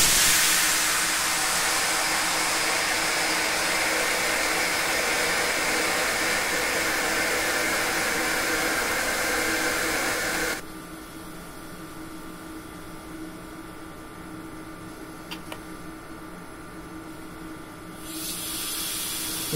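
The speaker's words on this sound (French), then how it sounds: "Le test du freinage d'urgence." Emergency brake test on a BB 26060 locomotive in Train Simulator 2020: a loud, steady rushing hiss of venting air fills the first half, then cuts to a quieter, lower hum with faint clicks before the hiss rises again briefly.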